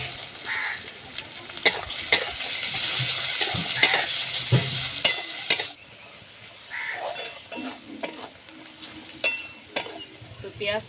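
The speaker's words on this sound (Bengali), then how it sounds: "তো পেঁয়াজটা ভাজা হয়ে গেছে।" Onion and black cumin fry in mustard oil with a bright sizzle and repeated sharp scrapes of a spatula against the pan, the sizzle dropping partway through as stirring carries on.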